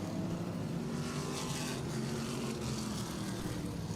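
NASCAR Modified race cars roar across the finish line at Riverhead Raceway, a steady, loud wall of engine noise with a brief swell as cars pass, no talk over it.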